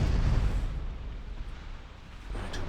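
A torpedo striking a warship in the naval battle game Ultimate Admiral Dreadnoughts, a heavy rumbling blast at the start that fades into a low roaring decay, with a faint second thump near the end.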